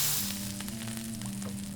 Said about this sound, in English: the water is now about hip level, and it's starting to sizzle and burn.